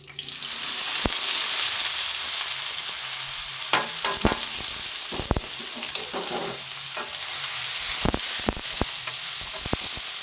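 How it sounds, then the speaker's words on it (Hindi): More than half a kilo of onions frying in a pan for a bitter gourd and meat curry, giving a steady broad sizzle throughout with sharp stirring scrapes and clinks breaking through now and then. "जिसके लिए हम पहले प्याज फ्राई कर लेंगे"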